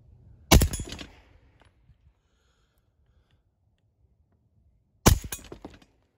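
Two sharp, loud shots from a suppressed 9mm direct blowback firearm, about four and a half seconds apart, each a crisp crack with a short rattling decay, in a quiet setting.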